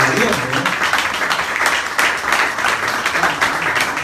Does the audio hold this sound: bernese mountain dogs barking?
no